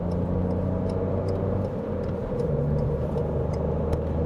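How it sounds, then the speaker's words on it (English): A petrol car engine revs steadily at around 4,000 rpm in a low gear, giving a continuous loud drone with a constant road rumble beneath it for the whole stretch. "And I can hear the engine."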